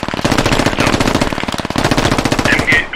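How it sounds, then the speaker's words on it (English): An MG3 machine gun fires in the Squad military shooter, sustained rapid bursts of loud, sharp reports in an even, fast rhythm for about three seconds. "MG3 firing at me."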